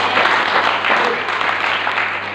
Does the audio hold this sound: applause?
yes